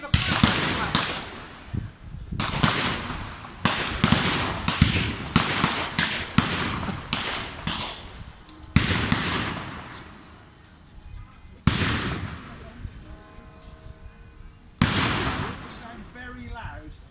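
A WW1 re-enactment volley of rifle gunfire outdoors, loud sharp cracks fired in quick irregular bursts with pauses between, echoing across open ground, with people talking underneath.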